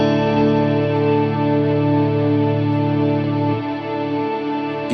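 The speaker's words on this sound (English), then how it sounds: "this is how this all sounds like if I play a chord" A sustained guitar chord played through a Strymon BigSky MX reverb pedal rings out alone, thick and shimmering with chorus-like wash, holding steady for several seconds before its lower notes drop away near the end.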